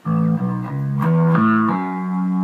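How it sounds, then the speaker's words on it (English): A bass guitar played through a Leslie rotary pedal with overdrive at maximum and the slow rotor setting gives a thick, distorted run of sustained notes that step up and down, loud and close. "I have the distortion or overdrive pegged up to 10."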